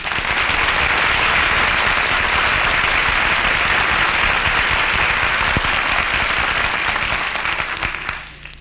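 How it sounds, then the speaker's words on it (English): A street crowd applauding on Hollywood and Vine, a loud continuous wash of clapping that holds steady for about eight seconds before tapering off at the end, with no voices over it. "Don, look at all the people on the street applauding on Hollywood and Vine."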